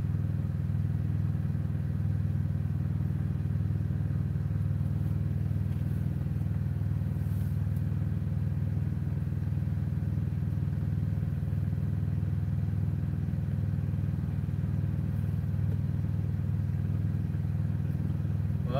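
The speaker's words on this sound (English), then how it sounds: "I'm just sitting here watching the traffic flow by." Road traffic with motorcycles and cars passing sets a steady, continuous low engine rumble with faint clatter. It stays at an even level throughout, with no distinct individual pass-bys standing out.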